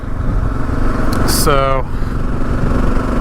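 Gen 3 Kawasaki KLR 650 motorcycle riding along a road near a dirt road turnoff, a loud continuous engine drone with wind noise, a brief spoken word and a short rising whine partway through.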